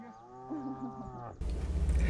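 A cow moos once in a long, loud, tonal call on a rainy mountain trek in Nepal, cut off abruptly by a burst of hiss from rain and wind.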